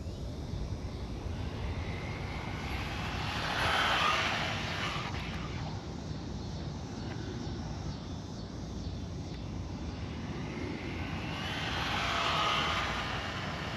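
A brushless Tamiya TT-02D RC car with a Honda Civic SiR body, running a top-speed pass on a road. It makes a steady high-pitched motor whine that swells as the car passes close, twice, over constant background noise.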